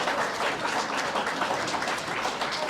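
An audience at a Hall of Fame and Living Legends induction ceremony applauds its honorees, a brief dense burst of clapping from a crowd that holds steady throughout.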